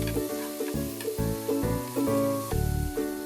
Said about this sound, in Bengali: ভালোভাবে নেড়ে চেড়ে মিশিয়ে নিচ্ছি